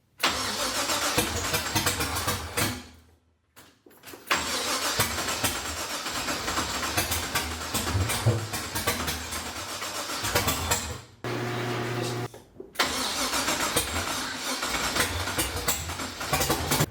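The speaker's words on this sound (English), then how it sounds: "It started." A built LS1 V8 swapped into a BMW E36 cranks and catches on its first start, then runs roughly and loudly, cutting out briefly twice before revving again, close by with no talking.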